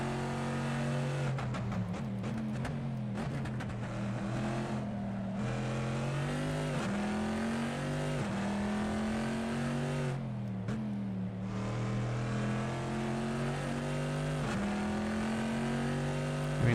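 Corvette C7.R race car engine from the Assetto Corsa sim with a sound mod: a loud, rumbling V8 revving up and down through gear changes, with sharp drops on shifts and downshift blips.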